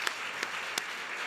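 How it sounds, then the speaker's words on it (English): Audience applause at the Asilomar 2023 gathering, a steady wash of clapping with a few sharper, closer individual claps standing out, no voices over it. "How about another round of applause for Casey and the amazing work that is being"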